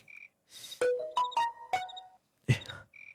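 A mobile phone sounds a text message alert: a short chirp, then a rising run of bright melodic notes, a final burst and another chirp, clear and close, with no talk during it.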